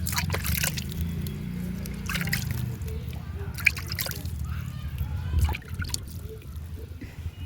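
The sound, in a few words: watering plants on the rooftop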